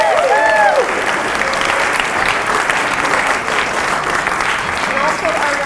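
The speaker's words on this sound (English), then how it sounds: "A round of applause for Lucas." Audience at a high school poetry recitation event applauding, a full steady clapping from a crowd with a few voices and a brief whoop over it.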